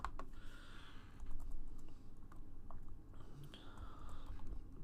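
Someone types a note on a computer keyboard. Quiet, close key clicks and taps come in irregular bursts throughout, with no voices.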